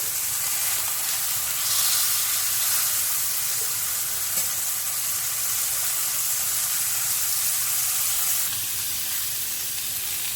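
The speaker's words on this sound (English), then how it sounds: "I'm going to sear them on all sides." Fillet steaks sear in a hot pan with a steady, loud sizzle and hiss that runs unbroken for about ten seconds, swelling slightly at times, with no voices over it.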